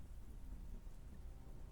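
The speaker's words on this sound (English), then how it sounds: "I hope this storm ends soon." Thunderstorm with rain, a low steady rumble and wash of rainfall heard faintly and evenly throughout, with no voices.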